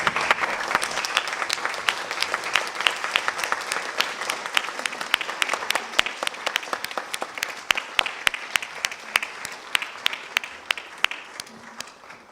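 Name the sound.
audience applauding and cheering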